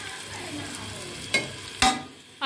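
Onions browning in a pan for a home-cooked okra (bhindi) dish, a steady soft sizzle with a few sharp stirring scrapes and clinks near the end, no talking.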